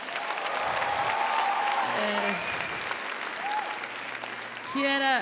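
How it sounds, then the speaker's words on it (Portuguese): Sustained audience applause fills a church conference hall, steady and loud throughout, with faint voices and a sung note rising near the end. "Dá só de palmas pro meu marido"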